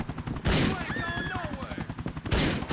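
Gunfire from enemies wielding shotguns in Grand Theft Auto IV: loud, heavy blasts open and close the moment, with rattling shots and game sounds between, all close and busy.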